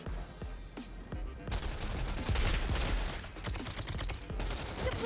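Rapid gunfire from the video game Rogue Company crackles in dense bursts, starting with a few isolated shots and then building into sustained fast-firing volleys that stay loud to the end.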